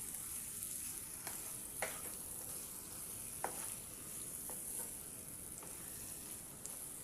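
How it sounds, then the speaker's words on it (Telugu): Prawns sizzle in a spicy masala curry with a soft steady frying hiss, broken by occasional faint scrapes and taps as they are stirred in the pan, with no talking. "మనం ఇప్పుడు ఇందులో రొయ్యలు అనేటివి వేసేసుకుందాం ఇప్పుడు దీన్నంతా మొత్తం అంతా బాగా కలబెట్టేసేయండి"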